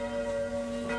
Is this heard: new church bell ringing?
yes